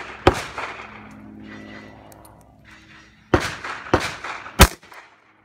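A Smith & Wesson .38 Special revolver is fired outdoors at a cardboard target: four sharp, loud cracks, one alone and then three in quick succession, with faint voices nearby.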